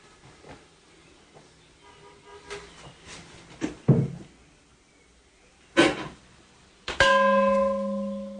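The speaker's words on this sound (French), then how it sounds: "Il est chargé de faire sonner le gong rituel qui aide les pèlerins à se concentrer lors de la prière." A monk strikes a ritual gong in a mountain monastery shrine on Wudangshan, with several sharp metallic hits that ring out, the last leaving a long sustained tone.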